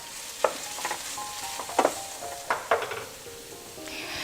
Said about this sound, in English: give it a stir every once in a while